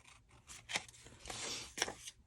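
Scissors snipping paper for a craft journal swap, a few short close rasping cuts spaced irregularly over a couple of seconds, fairly quiet with no talk.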